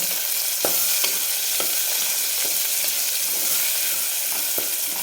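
Chicken and thick-cut onion sauté in hot oil, giving a steady, loud, close sizzle with occasional soft clicks of stirring.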